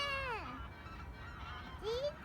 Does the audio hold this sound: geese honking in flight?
yes